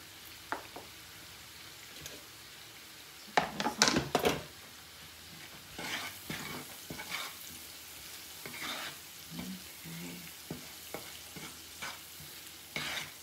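Peppers and shallots sizzle in a pan, soft steady frying broken by a few spatula scrapes and stirring knocks, quiet and close with no talking.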